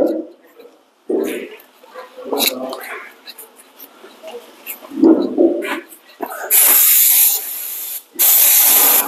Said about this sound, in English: I want to put a brake cleaner